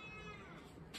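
A cat gives a faint, drawn-out meow at a distance over a quiet background.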